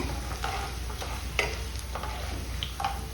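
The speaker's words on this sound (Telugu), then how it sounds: "ఇందులోనే చామదుంపలు వేసేస్తున్నాను" Taro frying in hot oil with occasional stirring clinks and scrapes, close and fairly quiet.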